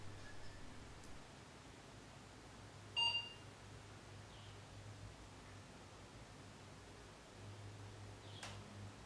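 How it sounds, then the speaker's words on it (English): An Apple II computer gives a short, faint electronic beep while loading a program, then a second, fainter blip near the end, over a quiet, steady hum. "Then press return on the computer and wait for the 2 beeps."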